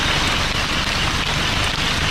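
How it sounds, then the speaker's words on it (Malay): Steady, dense rain falling outdoors at a garden fence-building site, a loud continuous hiss of drops with no pauses and no talk. "Dan hari ni kebetulan hujan."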